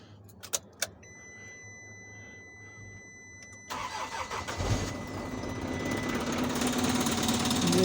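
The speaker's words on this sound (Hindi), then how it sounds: "अब स्टार्ट हो जाए हमारी गाड़ी" A car engine is started on a cold, foggy morning. A few faint clicks come first, then the engine catches and settles into a steady idle that slowly grows louder.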